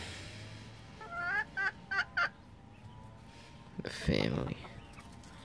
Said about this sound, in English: Let's show my chooks too. This is my chooks.